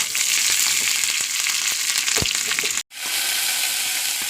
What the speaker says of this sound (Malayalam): ഉള്ളി കാച്ചാനുള്ള ചട്ടി വെച്ചു. കാഞ്ഞു, ഉള്ളി ഇട്ട.